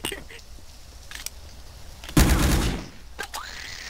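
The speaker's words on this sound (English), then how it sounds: "Then quit fucking shooting at me." A short burst of gunfire in a video game: one loud, close blast of rapid shots lasting under a second, set against quiet game ambience with faint scattered clicks before and after.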